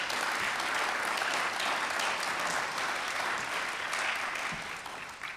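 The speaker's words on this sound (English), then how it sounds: "give them a round of applause to volunteers" Audience at a Democratic town meeting nominating caucus applauds volunteers, a sustained, dense clapping that stays steady for several seconds before easing slightly at the end, with no talking over it.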